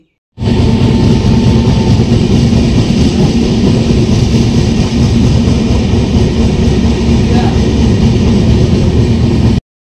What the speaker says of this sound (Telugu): అందువల్ల ట్రైన్ అయితే చాలా స్లోగా వెళ్తుంది